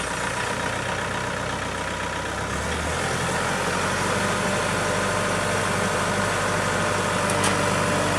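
A Kubota MX5400 tractor's diesel engine runs in a loud, steady low rumble close by, with a slight shift in tone early on and no talk.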